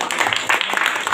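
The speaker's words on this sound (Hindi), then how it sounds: "चलिए पहले गणपति कुमार के लिए जोरदार ताली मारिए" Students in a school classroom burst into short, dense applause, a close burst of many hands clapping at once.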